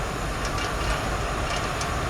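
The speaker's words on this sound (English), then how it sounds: "Metal wheels on steel rails" Train with metal wheels running on steel rails on a rural South African farm line toward a cane mill, a close, loud, continuous rumble with faint rhythmic clicks and light metallic squeals.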